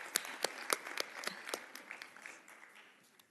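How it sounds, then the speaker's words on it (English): Scattered clapping from an audience at a dais event, a few sharp claps at the start thinning into softer, quieter applause that fades out. "Can we have a round of applause?"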